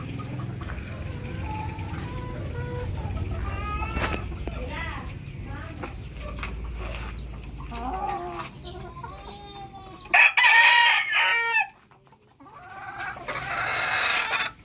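J47 hens, two unrelated birds, cluck on a small farm among other chickens, with occasional rooster crowing in the background; someone talks throughout, and the clucks come in short bursts, loudest near the end.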